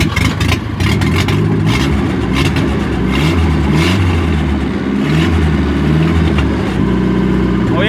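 A car engine with no exhaust fitted runs steadily up close, rumbling low with occasional small revs, continuous throughout.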